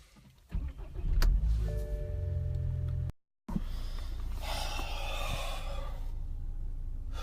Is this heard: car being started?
yes